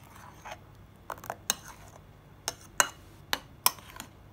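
A spoon mixes tomato gel mixture in a vessel, making several sharp clinks and taps against the container at irregular intervals, close and fairly loud over a quiet background.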